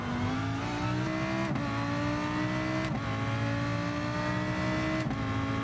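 A Lamborghini-style Hurricane in Gran Turismo Sport drones at high revs, its engine tone climbing steadily then dropping abruptly at each gear shift about every one and a half seconds, loud and close with no talk.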